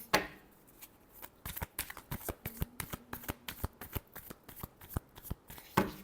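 Tarot cards are shuffled by hand, close up, in a rapid run of crisp riffling slaps and flicks, quiet and with no other sound.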